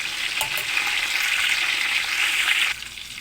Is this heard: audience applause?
no